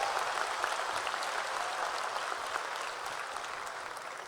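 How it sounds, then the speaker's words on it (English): Steady, dense applause from a large audience at the Lakeland High School 2015 graduation, an even wash of clapping that holds throughout and tapers only slightly at the end. "Well-deserved applause."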